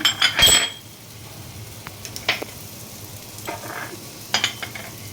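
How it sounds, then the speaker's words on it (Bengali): Spoon stirring sour yogurt with sugar in a bowl, giving a scraping, clinking burst at the start and then a few soft, scattered scrapes and taps nearby with no talk. "এখানে আমি দই নিয়েছি টক দই চিনিটা আমি এর সঙ্গে মিশিয়ে নেবো দিয়ে একটু ঘেটে নিচ্ছি"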